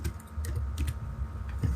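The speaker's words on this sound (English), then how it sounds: "we just type print" Quiet, close keystrokes on a computer keyboard, a quick irregular run of light taps with no voices.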